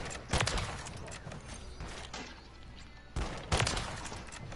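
Gunfire in Call of Duty Warzone on Rebirth Island comes as a few sharp, fairly quiet bursts of shots spread across a low game background, with a brief pause between the volleys.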